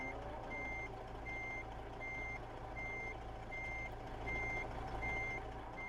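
Reversing beeps from a truck in American Truck Simulator, a steady evenly spaced electronic beep repeating about once per second over a continuous low engine rumble, with no talking.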